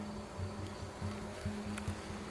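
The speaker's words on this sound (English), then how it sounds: "Some bees getting grumpy." Honey bees buzz steadily around an opened hive during a frame inspection, a low, continuous hum close by with slight rises in intensity, no talking over it.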